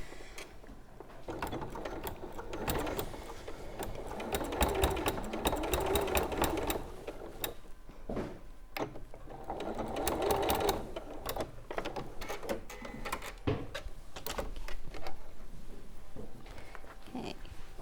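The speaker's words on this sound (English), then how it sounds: "you want to sew this line of stitching inside your 1/4 inch" A sewing machine stitches a quilt seam in bursts, its needle clattering rapidly with mechanical whirring, pausing briefly between runs of stitching, close and moderately quiet.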